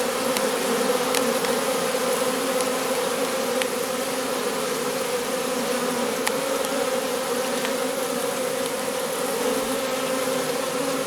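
A dense, steady drone of a secondary swarm of honeybees buzzing close by, continuous throughout with a few faint clicks and no talking.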